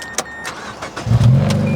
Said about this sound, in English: there's actually a solution to just turn the key to start it